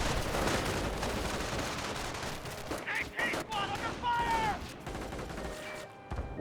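Dense gunfire in the World War II strategy game Company of Heroes, with a .30 cal machine-gun emplacement among the weapons. Continuous loud shooting runs throughout, and game voices speak over the middle.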